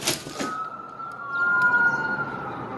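Emergency vehicle siren heard at a distance, a steady high wail that swells and holds over low traffic rumble after a couple of brief noisy bursts at the start.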